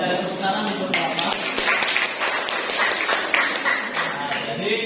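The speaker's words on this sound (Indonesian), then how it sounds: "Tepuk tangan untuk Bapak." Audience clapping at a school teachers' session in a room, a moderate steady patter of many hands throughout, with voices mixed in.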